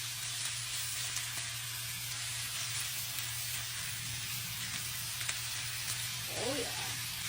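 Small pieces of ribeye steak seasoned with salt, pepper and garlic searing in a hot pan, giving a continuous close sizzle with a faint hum underneath.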